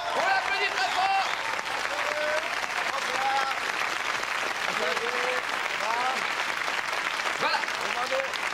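A TV studio audience bursts into strong, sustained applause for a contestant on a comedy variety show, with voices and cheers rising above the clapping.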